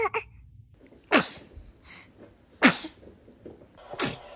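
A baby sneezes three times, each a sharp, close burst separated by short pauses of a second or more, over a quiet room.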